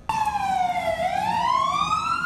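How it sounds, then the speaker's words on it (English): A police car siren blares through a quiet residential neighborhood near 3rd and University, one loud continuous wail that dips and then rises again. "Blaring police sirens filling an otherwise quiet neighborhood near 3rd and University Saturday"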